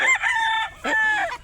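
A young rooster (stag) crows close by in two short, strained bursts separated by a brief pause.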